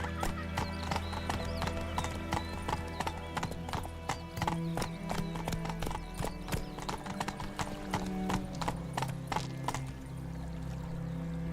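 Roach the horse trots along in Witcher 3, with crisp, rapid hoofbeats clip-clopping in a steady rhythm that fades toward the end.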